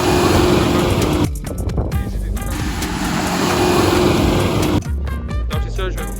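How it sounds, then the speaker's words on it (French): Outdoors in the cold, snow plow trucks pass in gusting wind, producing a loud continuous engine rumble and rushing noise that swells and fades, with brief breaks of gusty texture in between. "là il y a plein de camions de déneigement qui passent, avec le vent plus de ça"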